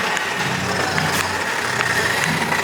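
A low-budget remote control toy tractor driving along, its small electric motor giving a steady, fairly quiet whine with slight rises in pitch, heard alone without speech.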